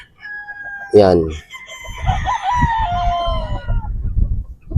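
Boston Roundhead chickens, a pullet and a brood stag, with one rooster crow rising sharply near the start followed by clucking and farmyard rustle, a brief word spoken close by.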